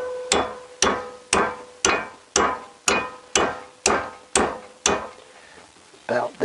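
Hammer striking a Honda CBR1000F motorcycle fairing bracket to bend it, ten sharp evenly spaced metallic whacks about half a second apart, close and loud, followed by a softer handling noise.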